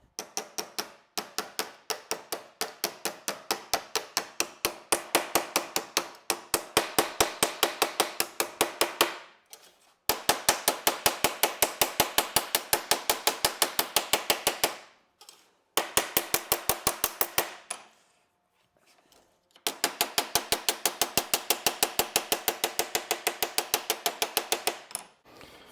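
Steel flange on an MGA floor rail being hammered flat: loud, rapid metallic blows in long steady runs, broken by short pauses, close and with no talk.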